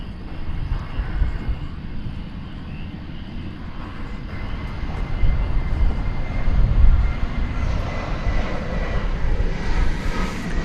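An American Airlines jet, flight 78 bound for Heathrow, roars at Dallas Fort Worth airport at night, a broad continuous engine rumble that builds louder toward the middle and stays heavy to the end.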